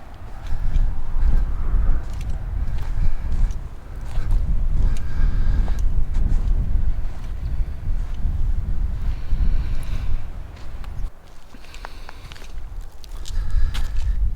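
Steady wind rushes and buffets the microphone across an open lava field in Hawaii's Kaʻū District, a continuous low roar with gusts rising and easing, briefly dropping around the middle before building again, with no voices.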